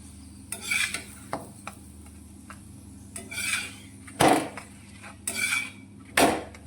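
A Gujarati puran poli (vedmi) roasting in ghee on a griddle gives a soft sizzle broken by several sharp scraping and clinking strokes of a spatula turning and pressing it.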